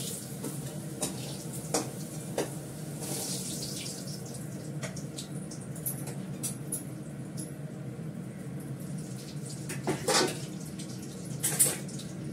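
Potato pieces fry in oil in a pan until browned, a quiet, steady sizzling hiss broken by scattered small crackles and pops, with no one talking over it.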